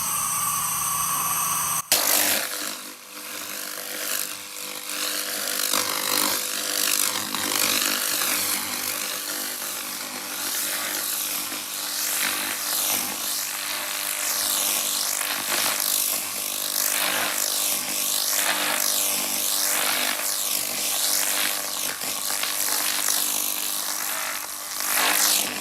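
An SFX 2000/3000W laser cleaning machine strips decades of rust, paint and grime from a car part with a loud, continuous harsh buzzing crackle that swells and dips in rhythmic sweeps, after a brief quieter start.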